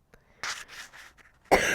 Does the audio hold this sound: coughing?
yes